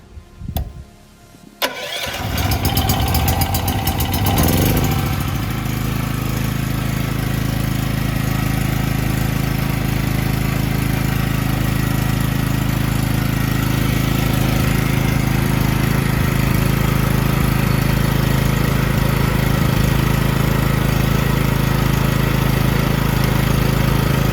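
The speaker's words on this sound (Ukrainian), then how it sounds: "Для того, щоб завести генератор, нам потрібно відкрити повітряну заслонку ось тут і заводимо." An Edon EPH37700E petrol generator with electric start cranks briefly, catches and settles into a loud, steady running drone that continues unbroken.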